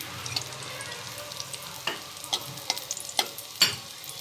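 Chillies frying in oil in a pan, a soft steady sizzle broken by a few sharp clicks and scrapes of a utensil against the pan, close and fairly quiet, with no talking.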